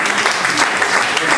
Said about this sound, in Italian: Un grande applauso, lo chiamo qui